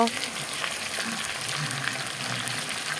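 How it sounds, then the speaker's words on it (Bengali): Cut potatoes fry in hot oil in a kadai, producing a short, steady, fairly loud sizzling hiss from close by, with no speech. "কড়াইতে তেল চাপিয়ে দিলাম এখন আলুগুলো ভাজা বসিয়ে দিলাম"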